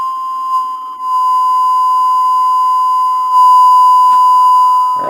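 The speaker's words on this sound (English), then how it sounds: "so now we'll put it back to 1000 hertz" A signal generator puts out a steady 1000 hertz test tone: a loud, continuous pure beep with a slight wobble near the start and a faint click near the end.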